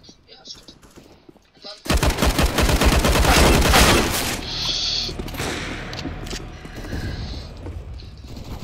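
Gunfire in the video game Counter-Strike: Global Offensive, competitive match on the map Mirage: a sudden loud burst of rapid automatic shots followed by continued shooting and clattering effects, with players talking over it.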